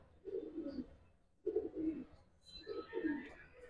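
Giribaz pigeons coo in three low, throaty bursts close by, each a soft rolling coo with brief pauses between them and no talking over the calls.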